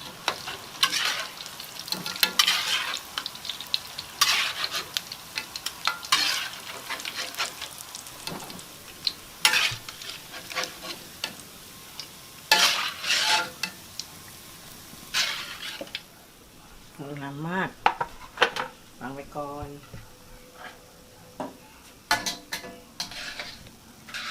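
Bananas and cempedak fry in hot oil, a continuous close sizzle with bursts of crackling and occasional clinks of a utensil against the pan, no voices.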